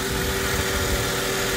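A Mercedes ML with its full original Mercedes exhaust idles at standard idle after standing for six months. It gives a steady, even engine drone up close with a constant hum and no speech.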